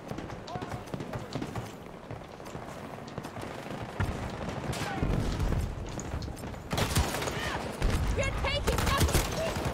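Rapid gunfire and bursts of automatic weapons in Battlefield 2042, continuous loud shooting and impacts with footsteps, mixed under a player talking.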